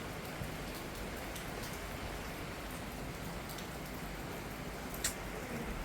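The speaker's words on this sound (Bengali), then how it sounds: "বৃষ্টি হচ্ছে" Steady rain falling during a dark, stormy spell, a dense even hiss that continues unbroken with a single faint tap partway through and no talking.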